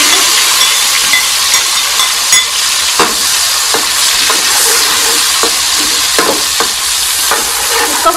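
Tomatoes and onion fry in leftover ghee and oil, a steady loud sizzle with occasional stirring clicks and scrapes from a spoon against the pan throughout.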